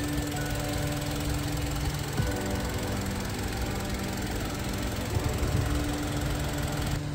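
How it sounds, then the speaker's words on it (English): Petrol 2.4-litre engine of a 2007 Mitsubishi Delica 4WD automatic MPV idling with a steady low hum and faint knock, heard at a distance in the background without talk. "Engine's running there in the background"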